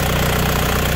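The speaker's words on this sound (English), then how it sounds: "You can tell now that the engine is running" A car engine idles with a steady, even low rumble and a faint rhythmic pulse, constant and close, with no voices.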